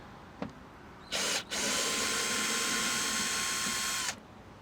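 A power driver backing out a T20 Torx screw on a VW Crafter door panel: a short burst, a brief pause, then a steady whirring run of about three seconds, heard close and clear.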